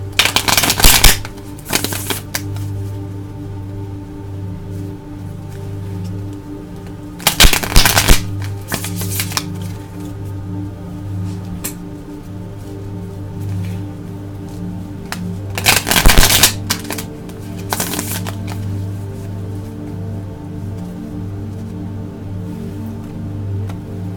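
Tarot cards are shuffled in loud, crisp riffling bursts separated by long stretches of steady low hum, with the bursts returning at intervals.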